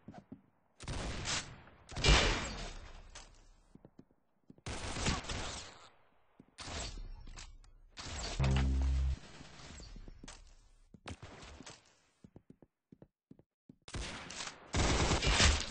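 Video game gunfire crackles in loud automatic bursts and single shots, separated by short silences, during an online multiplayer shootout with no talking.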